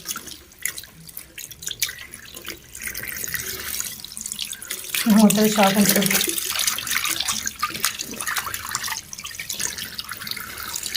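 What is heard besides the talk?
water running out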